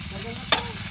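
Buro, fermented rice, sautéing in a pan with a steady sizzle and one brief stirring scrape.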